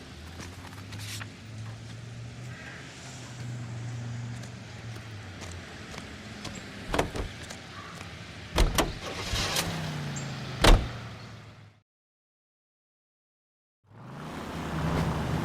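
A car in L.A. Noire driving with a steady engine hum and road noise, punctuated by several sharp thumps and clunks, then a brief gap of silence before the engine drone resumes.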